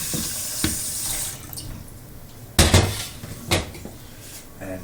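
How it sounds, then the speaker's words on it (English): A kitchen tap runs cold water over cauliflower and broccoli florets in a pan, a steady near hiss of flow, broken at times by sharp clunks and clatters of the pot and dishes. "we're going to cover that in cold water"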